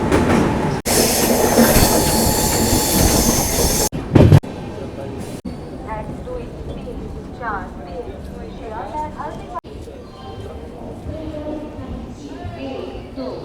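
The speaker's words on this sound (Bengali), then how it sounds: "রাঙাপানি ক্রস করে গেছে, আমাদের ট্রেন NGP-তে ঢুকছে।" The Darjeeling Mail pulls into New Jalpaiguri Junction with a loud, close rumble and rattle of wheels on track, then settles into a quieter carriage drone with faint rail clatter while voices talk over it.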